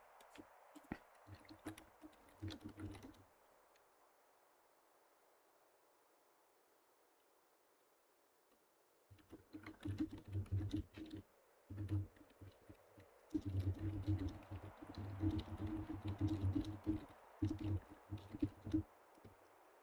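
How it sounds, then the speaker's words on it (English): Clicky computer keyboard typing comes in quick bursts near the mic, a short flurry at the start, a long quiet stretch, then busier intermittent rattling through the second half. "Forgive me if you can hear my typing."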